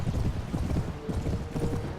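Horse hooves clip-clop in a steady, fairly close rhythm in the Warband mod A Clash of Kings, with no talk over them.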